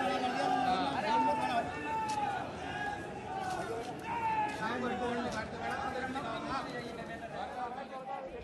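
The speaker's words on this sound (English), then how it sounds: "Jai Shri Ram slogans are heard being chanted." A street crowd in Babarpur, Delhi, during clashes chants Jai Shri Ram slogans in loud, rhythmic, overlapping voices, with shouting and general babble mixed in at moderate distance.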